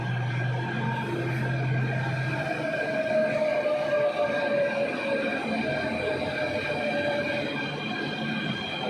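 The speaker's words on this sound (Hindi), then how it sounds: "तो गाइस हमारी मेट्रो भी आ चुकी है, वेरी फास्ट सर्विस।" A Delhi Metro train pulls into a station with a continuous rumbling roar and steady whine of wheels and motors, moderately loud and sustained, with no talking.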